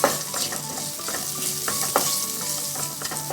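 Green chillies and turmeric powder sizzle in a hot pan while a spoon stirs and scrapes in quick irregular strokes, up close and alone without talk.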